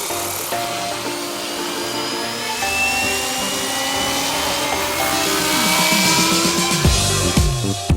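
A radio-controlled model helicopter at an aeromodeling event whines with a high, steady motor and rotor tone that rises and shifts in pitch, loud and continuous throughout.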